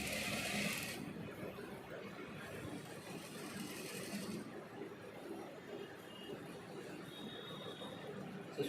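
A sewing machine stitches a full-sleeve shirt, running in a steady close whirr for the whole stretch, with a louder burst near the start and no talking.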